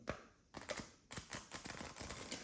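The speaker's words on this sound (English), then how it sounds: "So let's give them a shuffle, and hopefully I can do a decent shuffle today." A deck of playing cards is shuffled during a card trick, giving rapid riffling flutters in two bursts separated by a brief pause, close and fairly quiet.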